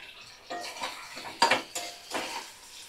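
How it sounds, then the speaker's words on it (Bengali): Metal spoon clinks and scrapes against a pan while spice masala with potatoes is stirred and sautéed, giving several sharp, close knocks among a soft background sizzle, with no talking. "কষিয়ে নিচ্ছি এবার"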